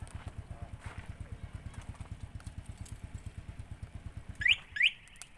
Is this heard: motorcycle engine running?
yes